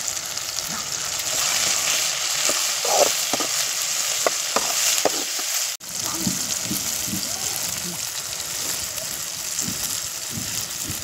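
Curry leaves fry in hot oil for sundakkai thokku, a turkey berry relish, with a close, continuous crackling sizzle broken by a few stirring knocks and a brief dip midway.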